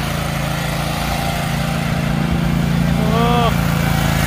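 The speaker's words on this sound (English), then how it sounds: "Is she sitting down on a mower?" A sit-down riding lawn mower runs with a steady, loud engine drone throughout, and a brief whining, chirping sound rises near the end over the constant hum.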